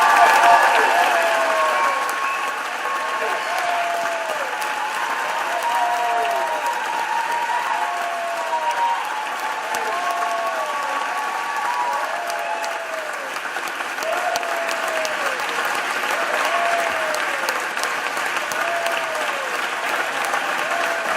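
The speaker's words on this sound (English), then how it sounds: "even these guys are clapping" Sustained applause fills a legislative chamber, with the pages and staff joining in; the clapping stays steady and moderately loud for about twenty seconds while faint voices carry underneath.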